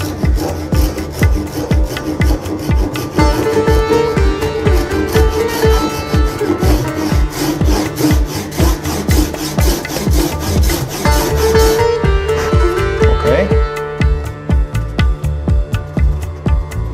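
Hand saw making starter cuts on the right and left sides of a wooden piece for a Moravian shaving horse build: steady, fast back-and-forth rasping strokes, close and loud, continuing throughout with no talking.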